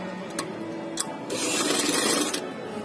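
A sewing machine stitches buckram folded onto fabric for a poncha trouser hem, with a few single clicks and then a steady close-up whirring run of stitching before it stops.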